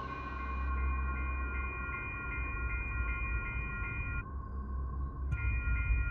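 A train releasing and pulling away in a horror-themed scene, heard as a steady low rumble with sustained tonal hums throughout; a faint high squeal near the end.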